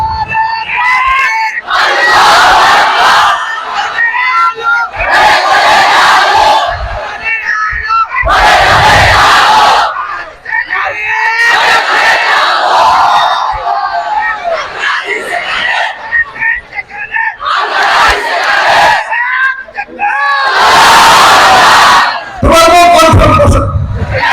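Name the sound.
crowd loudly shouting takbir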